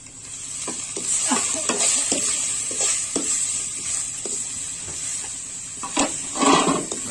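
Charota greens being stir-fried with garlic and dry red chilli in a hot pan, a sizzling hiss broken by repeated scraping strokes of a spatula, close and alone.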